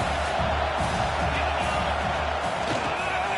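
Stadium crowd at an LSU football game roars in a dense, continuous wash of cheering that holds steady and loud throughout, with no single voice standing out.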